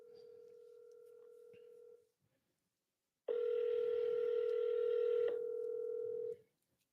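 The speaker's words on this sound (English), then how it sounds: "all of these numbers I'm dialing for this particular buyer right here are landlines" A landline telephone line gives two steady electronic tones while numbers are dialed: one tone, a short silence, then a louder, brighter tone holding for about three seconds before cutting off.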